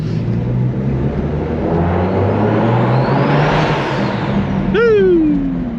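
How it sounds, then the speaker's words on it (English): A BMW 135i engine converted to single turbo drones steadily at close range, its tone swelling slightly, with a rising whistle and a sharp whooshing release near the end. "This car sounds so good, man. The tone of this thing is just completely different now that it's single turbo."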